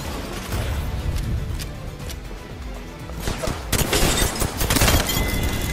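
Rapid bursts of gunfire and heavy impacts from an Apex Legends firefight, with loud overlapping volleys running throughout and growing denser in the second half.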